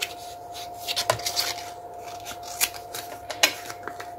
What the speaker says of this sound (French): donc déjà là aussi, je vais couper